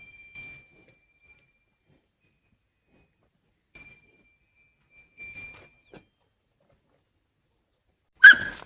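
Household dogs on a farm where bricks are being dug from the ground: a few faint, sparse whimpers separated by long silences, then one sharp, louder bark at the end.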